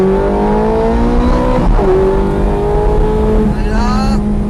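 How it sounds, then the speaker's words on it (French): Ferrari F430 Scuderia accelerating hard out of a corner, a loud, close engine note rising steadily in pitch, dipping at a gear change and climbing again, with no talking. "On élargit et on accélère."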